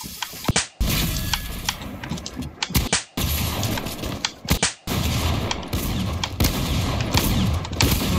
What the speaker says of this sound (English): Can you hear the rattlesnake shotguns?